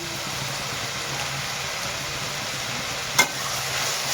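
Spiced Maharashtrian fried rice (phodnicha bhat) seasoned with garam masala and Maggi masala, stirred in a pan: a continuous even sizzle with a single sharp clink of the spoon near the end, no talking.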